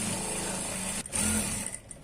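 Sewing machine stitching net fabric for a one-piece garment, a steady close mechanical whir running continuously with a brief pause near the middle before picking back up.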